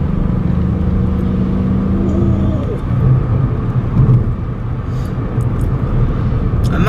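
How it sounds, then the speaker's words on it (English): A car with a 1 litre EcoBoost turbocharged engine rumbles steadily from the inside while driving, a low, continuous drone that swells slightly under acceleration, loud and near throughout. "for a car with a 1 litre turbocharged engine, it does make quite a nice little rumble"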